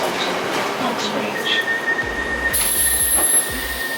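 A London Underground train runs with steady broadband rumble and hiss, faint squeals and clunking wheel thuds in the second half, with no talk over it.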